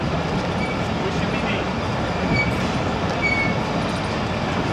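Rumble of the 10DN Allama Iqbal Express at Kot Lakhpat railway station, a steady broadband rail noise with faint wheel squeal, heard close and continuous under station ambience with a voice speaking.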